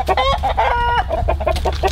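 Chickens and a rooster cluck and call back and forth in a busy run of overlapping clucks and short squawks, close and steady throughout, with no one talking.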